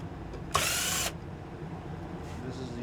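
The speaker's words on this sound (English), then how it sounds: "now I'll go ahead and remove all these screws here, starting with these two short ones" A small electric screwdriver whirs for about half a second, backing short screws out of an Xbox One X console, then the room falls quiet apart from faint handling.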